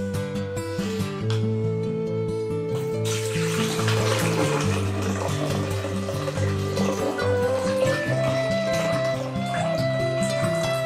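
Water is poured into a new coffee machine, a steady splashing fill that swells after a few seconds and runs continuously over a tonal background hum.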